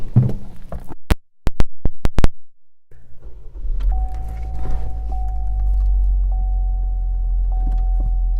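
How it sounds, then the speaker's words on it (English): The power moonroof on a 2017 Chevrolet Cruze runs, a steady low motor hum and drone after a few sharp clicks, close and continuous without speech. "power moonroof"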